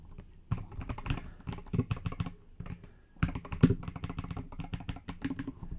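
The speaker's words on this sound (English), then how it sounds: "we could also test it with this mechanical keyboard I have here" Rapid clacking of mechanical keyboard keys, close and steady, in bursts of quick keystrokes with a brief pause midway, recorded through a FIFINE AM8 microphone with the keyboard behind it.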